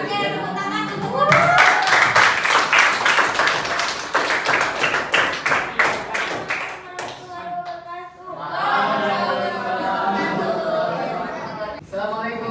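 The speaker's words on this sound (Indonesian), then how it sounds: "tepuk tangan untuk" A classroom of students claps together in a brisk burst of applause lasting several seconds. Chatter and children's voices are heard before it and after it as the room settles.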